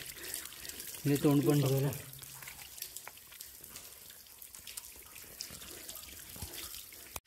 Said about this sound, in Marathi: हे पण झऱ्याचंच वरून येणारं पाणी आहे